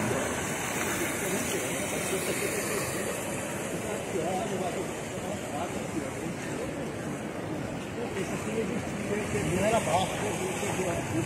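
Heavy floodwater rushing through streets of Itabuna, Bahia, after strong rains, a steady loud broadband roar filling the whole stretch, with voices talking over it.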